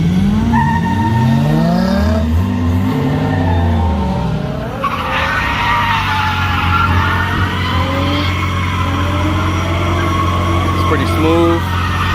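A naturally aspirated 3.5-liter car with stock steering angle drifts at a Tsukuba Circuit gymkhana event, its tires squealing in long wavering screeches over a loud engine roar, with people talking nearby.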